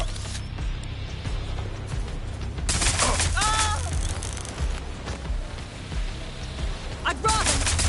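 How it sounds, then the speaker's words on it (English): Gunfire rattles in the Watch Dogs Legion video game, with sharp bursts of shots over a rumbling background and game voices calling out in between. "Being shot at here!"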